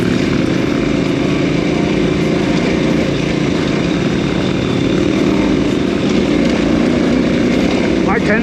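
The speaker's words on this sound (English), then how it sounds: "You just hear that engine just lugging along." A KTM 990 motorcycle engine lugs along in second gear, a steady, rough, thrumming drone that holds constant without rising in pitch.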